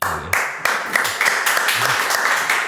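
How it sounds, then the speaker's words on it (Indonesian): Applause in a podcast studio, a few bursts of clapping starting and stopping over roughly three seconds, fairly loud and close, with voices mixed in. "Hari ini memang penuh dengan tepuk tangan."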